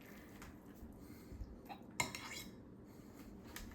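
A fork stirs strands of spaghetti squash into a buffalo mixture for a low-carb dish, giving soft scraping and a sharp clink against the bowl near the middle, quiet and close with no talk.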